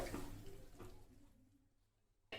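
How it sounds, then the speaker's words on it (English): Water poured into a pan of vangibhaat mixture made with vegetables such as brinjal, a short splashing gush that tapers off quietly, followed by a brief second splash. "So now let us add some water."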